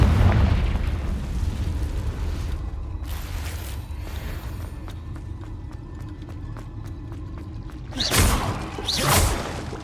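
Confringo fire spell exploding in Hogwarts Legacy gameplay amid a steady noisy rumble, with two loud whooshing bursts close together near the end.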